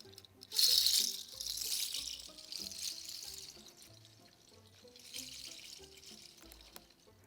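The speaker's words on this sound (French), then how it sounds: "Et j'arrose la graine." Water pours and trickles while a seed is watered, a soft splashing that starts suddenly, fades, and swells again briefly, faint and close with no talking.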